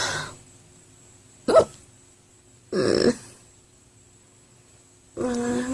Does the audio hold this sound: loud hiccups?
yes